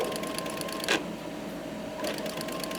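A shoemaker's sewing machine stitches a leather high-heel shoe upper together at the heel, a steady fast mechanical rattle running throughout, broken by a short louder burst near the start and a slight shift in pace later.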